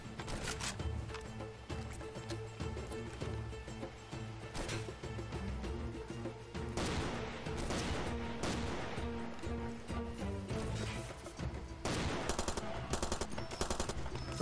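Rifle fire in Far Cry 2: irregular single shots and short bursts, some near and sharp and others softer, over steady tonal background music.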